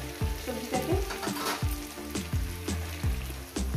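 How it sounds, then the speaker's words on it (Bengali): Green beans, potato and chilli frying in a pan, a steady loud sizzle broken by repeated scraping stirs of a spatula at an irregular rhythm, close up with no talking. "দেখুন বন্ধুরা, কত সুন্দর করে ভেজে নিচ্ছি আমি সবজিটাকে।"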